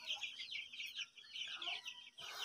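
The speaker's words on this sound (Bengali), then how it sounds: "এখানে আমার 100 টাইগার মুরগি আছে" A shed holding about a hundred Tiger breed chickens, on litter that had built up ammonia gas, gives off overlapping clucks and calls. The clucking is busy but fairly quiet and comes in bursts with brief lulls.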